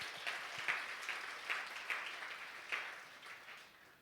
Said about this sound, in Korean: 우리 박수 한번 쳐주시고요.